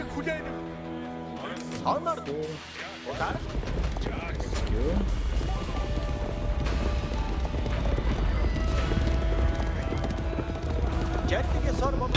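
Mongol Mangudai horse archers gallop in Age of Empires IV. After a short musical opening, a dense, steady thunder of many hooves sets in, with a narrator speaking over it.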